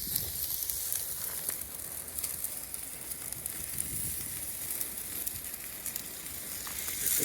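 A ribeye steak sizzles hard in a hot cast iron pan inside a wood-fired perlite pizza oven, giving a continuous bright hiss and crackle that stays close and loud with no talking.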